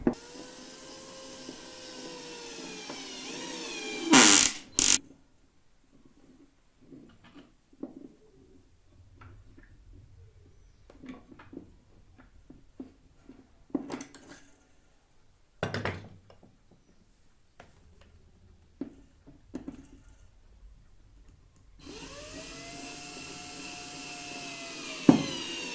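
A power drill drives screws into a wall, with a whirring motor at the start and end, a few short sharp bursts in between, and quiet handling noises during the gaps.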